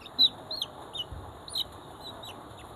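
Chickens at a Sylhet poultry farm that keeps Aseel, Frizzle, Brahma, Silkie and Polish cap breeds give short, faint clucks and chirps in a loose irregular rhythm over quiet background noise, with no talking.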